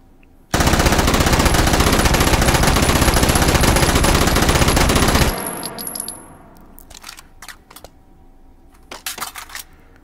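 A PPSh-41 submachine gun in Hot Dogs, Horseshoes and Hand Grenades fires one long, loud, rapid burst for about five seconds, then stops, leaving a ringing tail and scattered metallic clinks of falling casings or handling.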